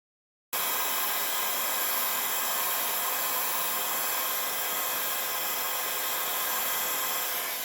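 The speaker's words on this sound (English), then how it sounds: "I'm going to hit it just for a second with my heat gun on a very low heat" A heat gun on very low heat drying an alcohol ink Christmas ornament switches on abruptly and blows a steady, even airy whoosh close by, unbroken to the end with no speech.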